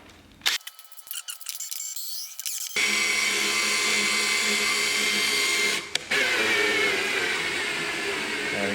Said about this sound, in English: We'll put it in one last drill and just see how many screws we can take out.